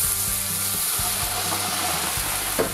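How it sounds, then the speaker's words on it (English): A frying pan that has just browned rabbit pieces, deglazed with a glass of white wine, holding a continuous close sizzle with rhythmic stirring scrapes and a brief splash near the end, no talking. "Take a glass of white wine and deglaze."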